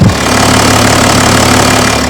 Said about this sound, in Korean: 이제 엔진의 상태는 뭐 심한 떨림이나 부조현상 없이 양호한 상태 엔진을 가지고 있고 엔진 소리 들어보도록